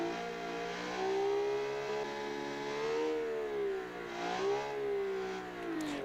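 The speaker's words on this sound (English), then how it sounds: "And once again, a very loud car." A car engine in the driving game BeamNG revs loud and sustained at high power, its pitch rising and falling in smooth swells with no talking over it.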